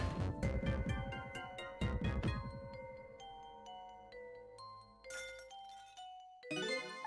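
A bell in Ghost Trick: Phantom Detective rings with bright, repeated chiming strikes that ring on and decay, followed by scattered tinkling tones and short musical flourishes.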